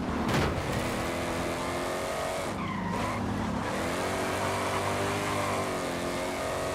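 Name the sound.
car engine revving in Forza Horizon 5 video game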